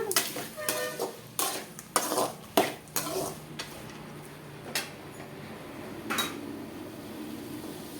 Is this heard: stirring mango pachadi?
yes